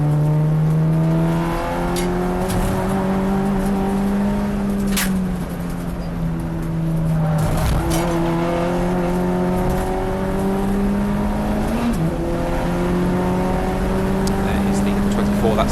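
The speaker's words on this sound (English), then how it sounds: "Another of the Audi TT Cup racing cars." Audi TT Cup racing cars at Silverstone's International circuit roar past one after another, their engine notes rising and falling steadily over about fifteen seconds, with a commentator talking over the top.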